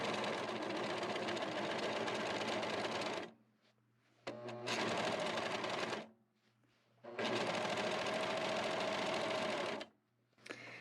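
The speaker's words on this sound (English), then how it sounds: "Make sure your foot is down when you're serging." A serger sewing machine stitches along a quilt's binding edge in three steady, fast-running bursts with brief stops between, close and fairly quiet, with no talking.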